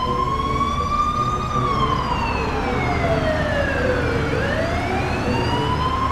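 Wailing emergency vehicle siren in the SimCity 4 Rush Hour video game, loud and close, one long slow rise and fall before climbing again, continuous with no voices.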